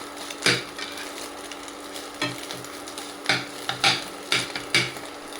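Pieces of chilli egg omelette are flipped and stirred in a hot pan, with a steady oil sizzle broken by about eight sharp spatula scrapes and knocks in an uneven rhythm. No one speaks.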